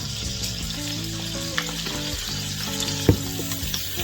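Ground meat with taco seasoning sizzles steadily in a hot frying pan while a utensil scrapes and stirs through it, with a few small clicks.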